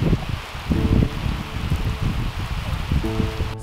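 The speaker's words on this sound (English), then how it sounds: "Rain still goes through." Steady rain falling around a thin shelter on the Southern Ridges near Henderson Waves, a continuous hiss with soft spattering drops and faint rustle throughout.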